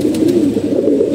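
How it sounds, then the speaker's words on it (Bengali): A pair of old-breed pigeons coo steadily at close range, a low rolling murmur that carries on unbroken with no voices over it. "জোড়া কবুতর একদম পুরান জাতের কবুতর।"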